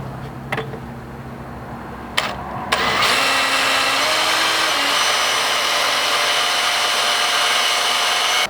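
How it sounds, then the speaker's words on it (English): A small 1/8 inch pilot bit in a power drill bores into steel during a Toyota 4Runner rock slider install, with a few short bursts followed by a loud, steady whine with no talking. "We're going to want to start with a small pilot bit."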